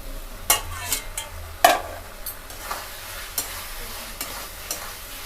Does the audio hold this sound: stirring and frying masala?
yes